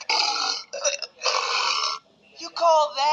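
A long, loud burp rumbles in several drawn-out bursts, broken by short pauses, then a voice speaks briefly at the end.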